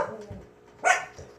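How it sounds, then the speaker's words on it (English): Dogs barking indoors, a few short, moderately loud barks with one sharper yelp near the middle, heard close by in quick succession without talk. "And my dogs are barking."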